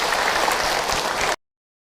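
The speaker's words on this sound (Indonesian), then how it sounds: "Tepuk tangan buat bunda yang bertanya tadi" Applause from a mosque congregation for a mother who asked a question during an Islamic sermon, a dense steady wash of many hands that cuts off abruptly.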